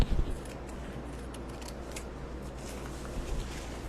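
Scissors snip through a paper napkin, a soft, steady crisp cutting sound close up, quiet and continuous with faint rustling.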